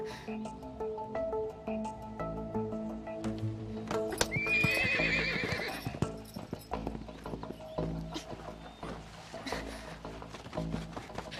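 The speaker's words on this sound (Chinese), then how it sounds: "马叫声在前面！" A horse whinnies sharply over a steady, busy clatter of hooves, with other horses moving about in an outdoor mountain setting from a Chinese period drama.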